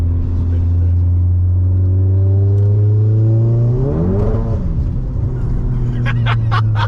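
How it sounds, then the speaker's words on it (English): A 500bhp Golf GTI with traction control switched off spins its wheels on a wet road. The engine note drones loud and close, then climbs in a quick rev surge, with clattering ticks near the end. "That's traction off there, you just seen it, it just spun like a madman."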